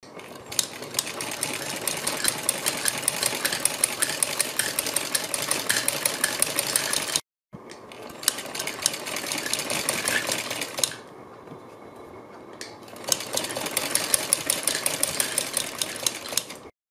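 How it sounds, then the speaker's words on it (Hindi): A sewing machine stitches along the edge of a blouse neckline in close, rapid mechanical runs, pausing briefly twice before resuming its steady clatter. "इसके बाद हम गले के किनारे किनारे पर एक सिलाई लगाएंगे।"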